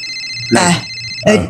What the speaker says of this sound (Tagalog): Ti cellphone ko, agriring.